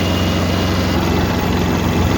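A Kubota B5001 mini tractor engine runs steadily and loudly close by, a constant low diesel drone with no clear rise in revs.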